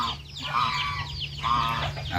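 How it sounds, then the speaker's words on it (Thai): A goose on a farm gives two honking, nasal calls, each about half a second long, fairly close and moderately quiet against faint background noise. "ฟังนั่นก็สิเป็นห่านครับ"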